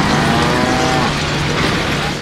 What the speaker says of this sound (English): What? A cow? Nice try, Wheel. There are no cows on Genosha.